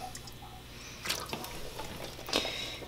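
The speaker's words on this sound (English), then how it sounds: "So you want to drain each can of beans." Liquid draining from canned beans such as black and kidney beans into a sink, a soft steady trickle with brief splashy drips, close and fairly quiet.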